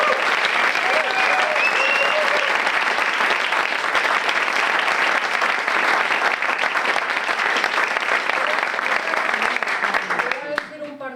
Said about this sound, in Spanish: el aplauso más grande de la noche para Lucía Rodríguez